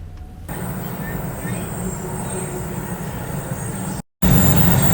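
A commuter train in Japan rumbles steadily on the approach to a station, a continuous low rolling noise with a brief dropout near the end before the rumble returns louder.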